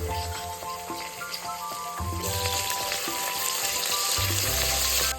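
Medium onions, two green chilies, mint and coriander fry in oil in a pan for mutton pulao, giving a loud, dense, steady sizzle with crackling pops that grows brighter partway through.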